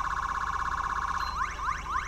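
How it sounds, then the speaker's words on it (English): Siren tone three on an unmarked Ford Taurus police interceptor of a sheriff's gang unit in GTA 5, a loud continuous warbling wail that shifts into rapid rising yelps toward the end, with no speech. "Now I did go ahead and change the siren."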